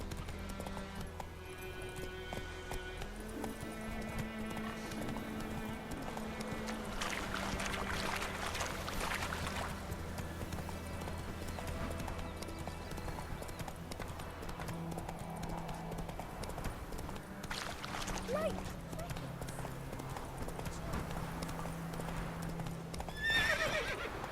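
Roach, a horse in the video game The Witcher 3: Wild Hunt, gallops with a steady, rhythmic clip-clop of hooves, a whinny or two, and game music and ambience layered beneath.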